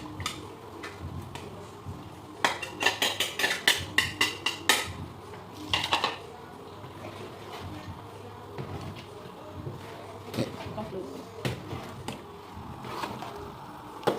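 Spoon stirring a thick palm kernel stew with dried prawns and crayfish in a pot, heard as quick clustered clinks and knocks against the metal followed by sparser taps.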